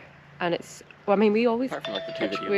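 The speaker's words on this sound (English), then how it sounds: "Oh, that's my alarm." A phone alarm goes off outdoors on a sunny beach bike ride, a steady electronic tone sounding in the second half under casual chatter from nearby voices.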